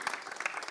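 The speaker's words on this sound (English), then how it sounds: "A big round of applause for them too." A crowd at a film trailer launch event claps briefly, a light, fairly quiet patter of many hands over a fraction of a second.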